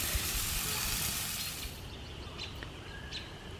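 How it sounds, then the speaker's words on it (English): Steady broadband sizzling hiss of meat charring on a hot grill, loud at first then easing, with a few faint bird chirps in the background. "now onto the grill to kind of char them."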